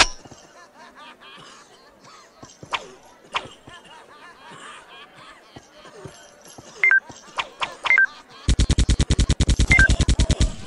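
Rapid gunfire from a Circus Master Revenge shooting game hits clowns, first as scattered single shots and clinks, then a fast machine-gun burst of evenly spaced loud shots at the end, with game voice speech mixed in.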